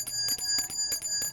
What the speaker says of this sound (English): somebody told me I could ring the bell